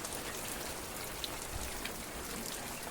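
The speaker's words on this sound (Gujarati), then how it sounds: "મારો વરસાદ ચાલુ થઈ ગયો" Rain falling steadily on surfaces during a monsoon fair, a soft even patter of drops with a few sharper splashes, fairly faint and with no voices.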